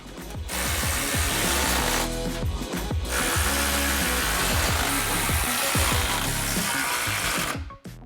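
A power tool tightens exhaust clamps on a Ford F-150 Raptor's Flowmaster FlowFX stainless steel muffler, a close, loud whirring and ratcheting buzz that runs almost continuously with short pauses.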